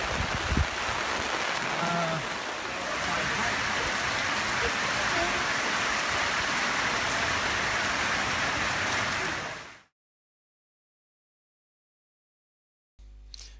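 Steady heavy rain pours down on a camper trailer camp in the Simpson Desert, a continuous dense hiss with a brief low thump early on, then cutting to silence before a short burst near the end.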